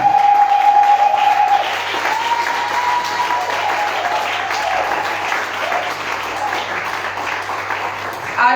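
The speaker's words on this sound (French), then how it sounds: "Est-ce qu'on peut acclamer le Seigneur?" A church congregation applauding and cheering, sustained dense clapping from a large crowd, loud and continuous, with a held musical tone underneath and a steady low hum.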